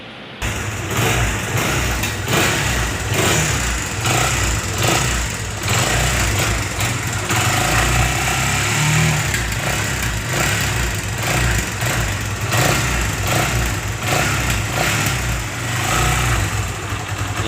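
A new motorcycle engine runs steadily with the choke lowered, a continuous close, loud idle with a rough mechanical drone and no talking.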